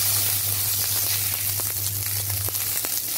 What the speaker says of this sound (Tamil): இப்போ எடுத்த வெங்காயம், கிரேவி எவ்வளோ வேணுமோ அவ்வளோ நம்ம வதக்கிக்கலாம்